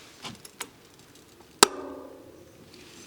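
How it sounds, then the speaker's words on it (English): A single sharp metallic pop from a bicycle chain master link, close and fairly loud, with a brief ringing tail, preceded by a couple of faint light clicks. "That master link popping."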